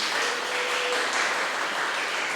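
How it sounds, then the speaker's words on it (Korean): A seminar audience applauds the introduction of a professor at a university school information session, with faint, even clapping from a crowd heard at a distance and unbroken for the short span. "박수로 한번 해주세요"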